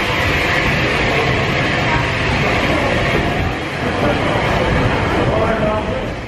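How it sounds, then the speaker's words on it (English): A steam train hauling carriages rolls on steadily, a dense continuous rumble of wheels and running gear heard from on board, loud and unbroken throughout. "It's the train that we're being pulled by today."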